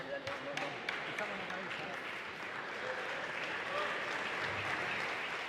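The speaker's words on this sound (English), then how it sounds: "Players back on court, crowd on their feet, applauding" A crowd on its feet applauds at a professional padel final, the Galicia Open, with steady, full clapping throughout and a commentator's voice faintly underneath.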